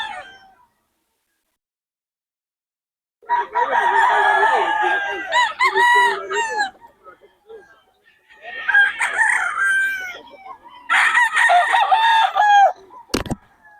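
Bullstag roosters crow loudly and close at a market in Bocaue, with several long, full crows separated by short silences and a sharp knock at the end.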